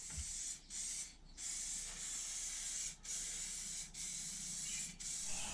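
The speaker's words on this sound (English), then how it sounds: "then we'll hit it with the clear coat" A spray can lays clear coat onto a boat's outboard lower unit in six long hissing bursts separated by brief pauses, close and steady with no talking.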